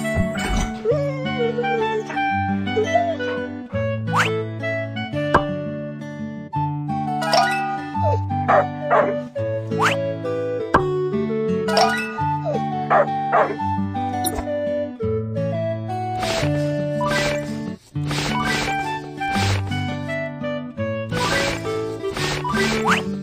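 A cartoon puppy with an injured, fractured leg barks and whimpers in short yips over continuous bouncy, rhythmic cartoon music that fills the whole stretch and stays loud throughout.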